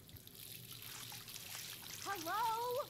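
Water runs in a steady trickle inside the Life Is Strange video game, a faint continuous stream under a person speaking.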